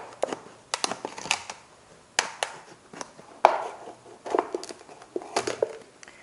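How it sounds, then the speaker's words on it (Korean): Plastic PET bottle having its bottom cut off with a knife, a series of sharp, irregular crunching snips and cracks with short pauses between, close and clear with no talk. "페트병의 아래를 잘라주세요."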